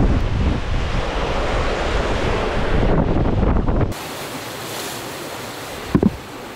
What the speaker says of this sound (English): When the sail's flogging like that, for hours on end